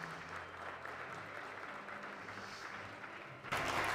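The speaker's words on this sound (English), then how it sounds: "So a round of applause to the women in the room." Applause from a conference audience at a Brazil–UK business forum, a steady dense patter of clapping that swells louder in the final half second.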